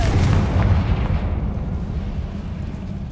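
A Confringo blasting spell explodes in Hogwarts Legacy with a heavy, close boom that rumbles loudly at the start and then decays into a fading low roar over a few seconds.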